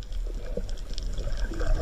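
Water flowing in a current, a steady close wash and trickle at moderate level running throughout with no talk over it.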